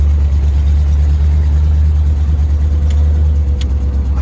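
A 1957 Ford Thunderbird's engine pulls steadily with a deep, even low rumble, heard up close from inside the car as it drives on, continuous and without speech.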